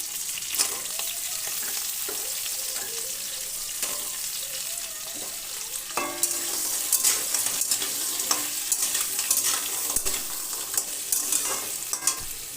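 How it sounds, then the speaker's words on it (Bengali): Crab curry with ol stalks being stirred in a hot pan: steady bright sizzling with scattered spoon scrapes and clacks, growing busier midway, close and without speech. "দিয়ে ভালো করে নেড়ে চেড়ে নিলাম।"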